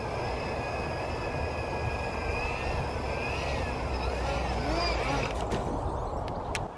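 Electric motors of a homebuilt RC VTOL aircraft hovering at slow speed, giving a steady, loud whine with several sustained tones that waver and shift in pitch, continuous throughout with a few sharp clicks near the end.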